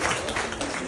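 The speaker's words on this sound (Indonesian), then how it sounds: "Tepuk tangan untuk teman kita" Short burst of classroom applause for a classmate during an anti-corruption awareness session, a dense, steady patter of many hands clapping at once, moderately loud and continuous with no talk over it.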